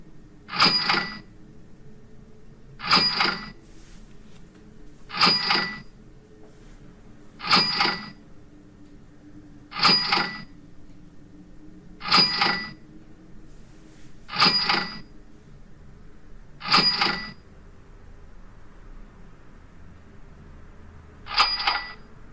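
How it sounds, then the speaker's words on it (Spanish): A PowerPoint slide-transition cash register sound effect plays nine times, each a short bright ring in an even rhythm about every two and a half seconds, with no talking. "que además suene lo que es el sonido de la caja registradora"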